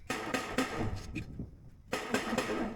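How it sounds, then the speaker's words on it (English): A burst of rapid hammer taps on a metal gutter, a short pause, then another quick run of taps, close and moderately loud. "I'm just going to give it a tap with the hammer"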